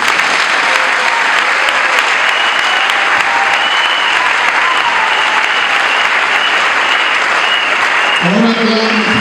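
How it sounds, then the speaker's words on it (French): A church congregation claps loudly and continuously at a general worship service, dense sustained applause that fills the room before a voice begins right at the end. "On acclame très fort la parole de Dieu qui nous fait du bien"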